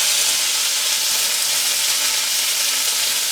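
Curry leaves hit hot oil and set off a loud, continuous frying sizzle that holds steady from start to finish, close by and with no talking.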